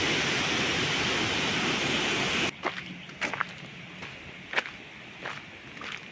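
Water falls at a turbine in Ötscher-Tormäuer Nature Park, a loud, steady rushing roar that cuts off abruptly partway through, leaving quieter scattered knocks and footsteps.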